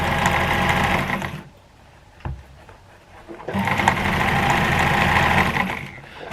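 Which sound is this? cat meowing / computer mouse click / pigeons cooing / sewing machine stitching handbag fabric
sewing machine stitching handbag fabric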